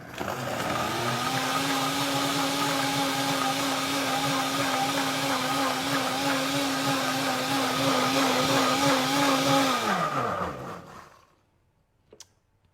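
Nutribullet 1200-watt blender running on high, a loud steady whirring motor drone holding a constant pitch for about ten seconds, then winding down and stopping, followed by a faint click.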